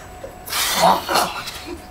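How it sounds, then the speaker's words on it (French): A single loud, sharp sneeze bursts out, followed by a brief breathy tail. "Elle lâche un éternuement tellement fort que les oiseaux s'envolent"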